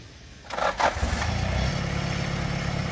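A UAZ off-road vehicle engine catches after a brief cranking burst, then settles into a steady low, loud idle rumble close by.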